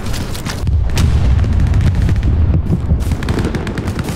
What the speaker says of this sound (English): And when in doubt, fire your rifle.